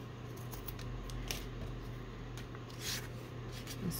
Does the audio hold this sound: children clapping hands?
no